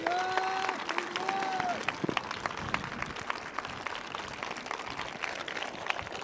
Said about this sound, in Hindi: आइए यीशु के लिए एक अच्छी ताली बजाएंगे हम।